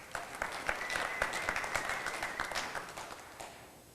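Audience applause breaks out at a 2001 Chrysler Sebring product presentation, a dense, fairly steady wave of clapping that gradually tapers off toward the end, with no talk over it.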